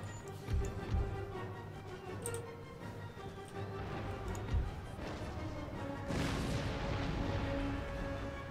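Artillery firing round shot in the Empire Total War video game: scattered low booms and cracks recur over several seconds amid a dense battle din, some near and sharp, others dull and distant.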